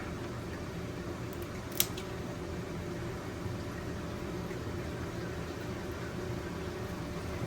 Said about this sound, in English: Cut that stem off.